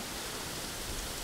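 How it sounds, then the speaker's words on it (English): Heavy rain falls outdoors as a continuous, even hiss of dense drops with no distinct individual impacts or pauses. "Okay, it's still raining. Pretty heavy."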